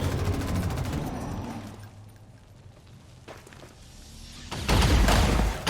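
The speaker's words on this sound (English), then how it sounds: "Let's suppress that assault there. Cover fire." Suppressing cover fire in XCOM 2: an opening burst of automatic gunfire fades into a quieter lull, then a loud, heavy volley of shots and booms erupts near the end.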